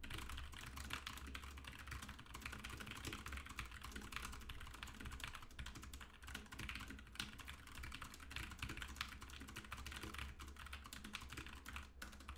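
Fast typing on a QWERTY computer keyboard, a dense steady stream of light key clicks at a very quick pace, heard close and fairly quiet over a constant background hum.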